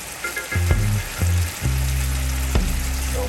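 Red, green and yellow peppers sizzle loudly in a hot pan, a steady crackling hiss with a few sharp pops and low clunks of stirring.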